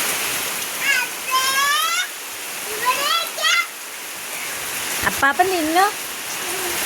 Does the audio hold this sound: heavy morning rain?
yes